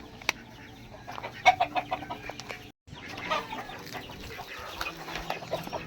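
Chickens clucking at a relative's farm, a busy flock of scattered clucks and squawks over steady outdoor background noise, fairly faint, with a brief dropout midway.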